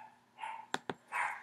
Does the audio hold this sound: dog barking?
yes